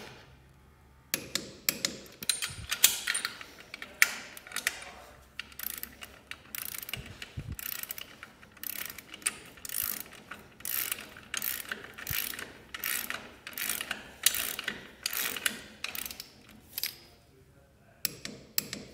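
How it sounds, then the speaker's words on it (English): A socket wrench ratchets steadily while tightening the hardware on a zinc-plated Dexter Leverlock trailer coupler, producing repeated bursts of quick clicking strokes, close and clear, with brief pauses between runs. "I'm gonna come back with a socket and a wrench and tighten the hardware down to the manufacturer's specifications"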